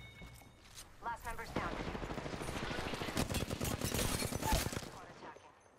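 Rapid automatic gunfire in the Apex Legends video game, dense bursts of shots rattling for several seconds up close, with a voice talking over the firing.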